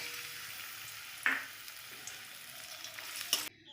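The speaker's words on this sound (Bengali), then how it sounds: "এবারে কাজু বাদাম আর কিশমিশ একটু ভেজে নেব।" Cashews and raisins fry in white oil in a pan, giving a soft, steady sizzle with occasional light stirring clinks, close and fairly quiet, with no one talking.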